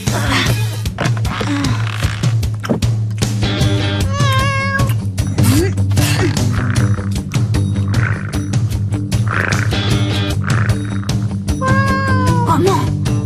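A cat meows several times in short, bright calls over a busy cartoon scene thick with music and other effects, the meows standing out clearly above the mix.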